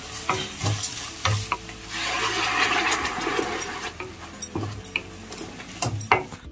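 Onions frying in groundnut (peanut) oil with a little salt, a loud close sizzle with repeated clattering and scraping of a spoon against the pan, uneven knocks throughout and no talking.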